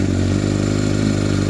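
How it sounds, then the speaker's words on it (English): A carburetted Honda CBR900RR Fireblade with a fuel leak runs at a steady, loud, close idle, its engine hum even and unbroken for the whole moment. "fire the bike up"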